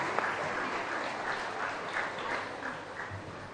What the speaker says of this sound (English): It would be great if you could have a bigger round of applause for our recipients